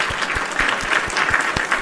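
A short burst of applause for the Nintendo DS game Scooby-Doo First Frights, dense and steady clapping from a small crowd, close and fairly loud.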